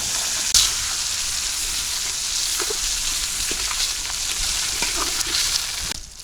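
Chopped onion and spices hiss loudly in hot oil, a dense continuous sizzle held close for several seconds, with a few soft clinks of stirring.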